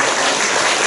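Brief, loud burst of dense applause from a congregation at a Wednesday worship service for retired pastors, steady clapping with no voices.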